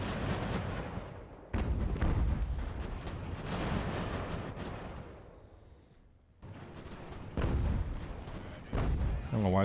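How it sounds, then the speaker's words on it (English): Artillery and musket fire boom through a battle in Ultimate General: American Revolution, an 18th-century strategy game, with heavy blasts and crackling volleys rolling in waves, loud and near, briefly dropping off before resuming. "firing at the enemy artillery."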